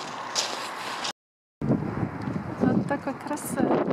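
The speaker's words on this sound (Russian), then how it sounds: "Какой сильный ветер сегодня." Strong wind buffeting the microphone in a loud, steady roar outdoors at an aircraft museum in Utah, with a brief dropout to silence partway through, then gusting resumes.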